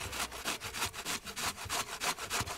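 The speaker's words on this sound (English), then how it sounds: "So we're just going to continue grating this" A sweet potato is grated on a hand grater in quick, steady back-and-forth strokes, each a loud, close, rasping scrape in an even rhythm with no talking.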